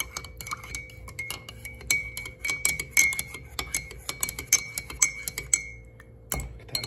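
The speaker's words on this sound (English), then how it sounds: "I got a spoon. I'm gonna go ahead and mix it up." A spoon stirring Coffee Mate Original creamer into a cup of coffee, clinking against the ceramic in quick, irregular taps, fairly close and soft, with a faint steady hum behind.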